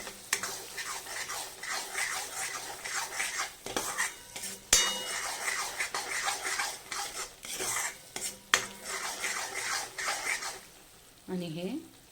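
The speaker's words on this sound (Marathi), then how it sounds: "अर्धा चमचा हळद. आता हे चांगलं हलवून घ्यायचं आहे." A spoon stirs homemade chutney powder and turmeric through a pan for a chole dish, scraping and clinking steadily and close up. A short tonal sound comes near the end.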